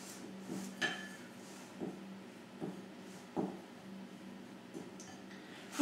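A whisk or spoon works pancake batter of milk and oat-bran flour in a bowl, giving quiet, fairly regular taps and clinks against the bowl about once a second over a soft background.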